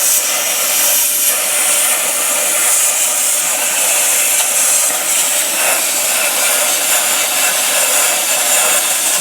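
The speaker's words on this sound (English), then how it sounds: "Plasma easy gets it, cuts it, but it's a bit sort of sparky." A plasma cutter slices through a rusty steel dash panel from a 1995 Range Rover on a workbench, giving a loud, continuous hissing roar that holds steady without a break, close up and with no talk over it.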